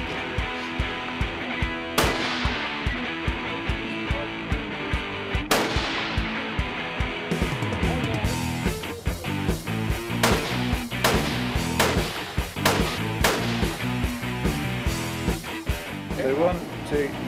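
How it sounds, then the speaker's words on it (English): Shots from a .50 BMG sniper rifle and a 6mm rifle on a 500-meter shooting range, sharp loud cracks at irregular intervals at first, then a faster run of repeated shots, with voices talking in between. "This is a 500 meter range where we'll be shooting the new 6mm caliber plus a 50 cal BMG sniper rifle."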